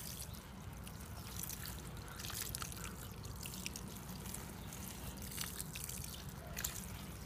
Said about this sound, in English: And then I'm just gonna water this in.